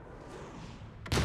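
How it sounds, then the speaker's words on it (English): Mortar fire in the video game Resident Evil Requiem ends the clip with a sudden loud, thudding blast after a stretch of quiet low background rumble. "Let's just fire mortar in there also."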